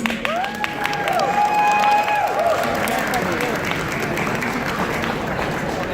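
Crowd applause and cheering at a university Asian culture night fashion show, steady clapping with whoops and shouts rising over it, while an announcer's voice carries through the noise.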